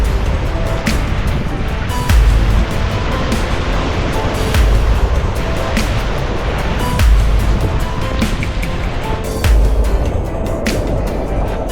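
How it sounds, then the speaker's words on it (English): Rushing white water of river rapids in a rock garden on the John River in Alaska, heard from a packraft: a loud, steady roar and wash with periodic deeper thumps and splashes, close by and without talk. "we begin to see a little bit of white water and begin the rock garden section"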